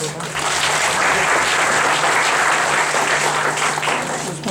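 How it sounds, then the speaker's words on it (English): An indoor audience at a talk gives the speaker a round of applause, a loud, dense wash of clapping that swells in quickly and holds steady for about four seconds. "a big round of applause for him"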